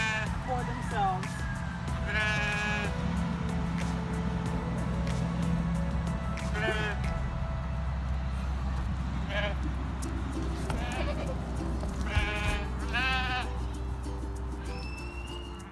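Goats on a small farm bleat repeatedly in scattered, wavering calls, some near and some farther off, over a steady low rumble like a passing vehicle.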